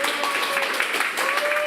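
Brief burst of dense, steady applause filling a meetup hall as a design-organization leader named Martin is welcomed to the stage, with a few voices faintly audible in the crowd.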